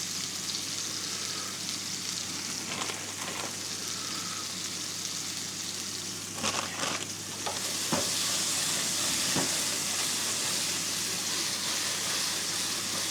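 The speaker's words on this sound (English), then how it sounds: "these fried cherry vine tomatoes" Cherry vine tomatoes fry in a pan with a constant loud sizzle, broken by occasional scrapes and stirring clicks throughout.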